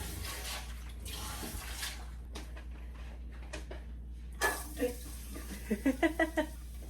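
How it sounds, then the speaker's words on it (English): Hands washed under a running tap in a home bathroom: a steady close rush of water, then a few light clinks and splashes toward the end. "Let me wash my hands"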